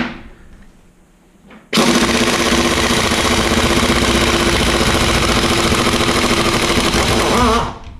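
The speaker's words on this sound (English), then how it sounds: "we're just going to let fly with the impact." An impact wrench hammers away at a final drive, loosening the ring gear's fasteners. After a quiet lead-in it comes on abruptly, loud and close, as a dense, rapid rattling burst. The burst holds steady for about six seconds and then cuts off.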